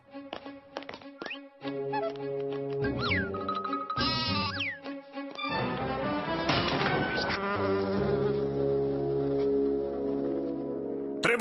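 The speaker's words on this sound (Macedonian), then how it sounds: "Тоа е мува." Fly buzzing in a Garfield cartoon, a continuous insect drone mixed with loud cartoon music and effects throughout.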